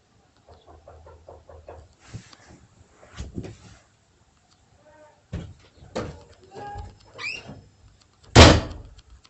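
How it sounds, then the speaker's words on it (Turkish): A door slammed shut indoors, one sharp loud bang near the end that follows scattered quieter knocks and movement, with people talking before it. "Allah be kapıyı çarptı."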